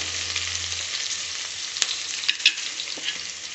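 Green chillies hit hot oil in a pan, giving a steady, close hiss of sizzling and frying with a few small pops and stirring scrapes.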